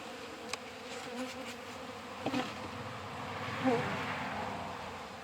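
Honey bees drone steadily in an open hive being worked, a close, continuous buzz with faint knocks and handling sounds over about five seconds.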